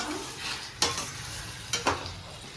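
Chicken gravy masala being stirred and sautéed in a pan, with a steady sizzle and a few sharp scraping strokes of the spoon against the pan, close and moderately loud, with no talking.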